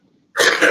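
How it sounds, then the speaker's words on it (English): A single short cough bursts out loud and close after a near-silent moment, during a live podcast recording. "So deal with my coughs, okay?"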